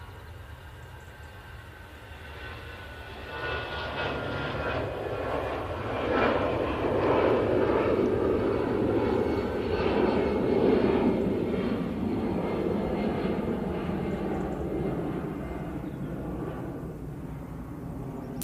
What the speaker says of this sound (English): Aer Lingus now on the roll